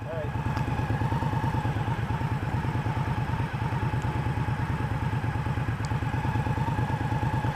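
A motorcycle engine runs steadily and loudly during a test ride, its rapid rhythmic pulsing holding at a constant close level throughout with no pauses.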